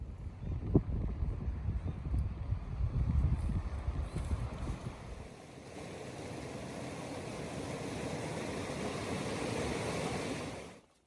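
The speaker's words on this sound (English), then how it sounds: "The northwest wind's already started" Northwest wind rushes through trees in the New Zealand mountains as a steady roar, with gusty buffeting against the microphone in the first half before settling into a broad, even hiss that fades out at the end.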